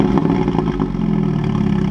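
Mini F56 engine with a decat catless downpipe starting warm with exhaust valves open, a loud, continuous low rumble that holds steady and close throughout with no voices.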